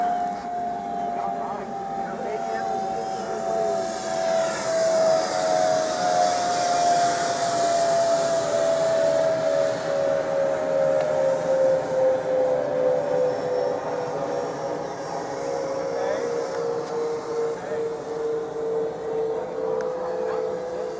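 A Freewing F-86 Sabre RC model jet climbs away on its maiden flight in Largo, Florida, its steady turbine-like whine holding for a long stretch and slowly sliding lower in pitch as it flies off.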